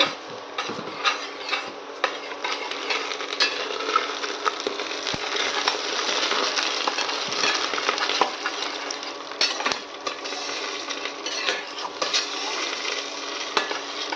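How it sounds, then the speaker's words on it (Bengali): Mung dal stirred and fried in a pan gives a continuous dry sizzle with scraping, ticking spoon strokes throughout, close and steady, with no voices. "ডালটা দিয়ে একটু নেড়ে চেড়ে ভেজে নেব"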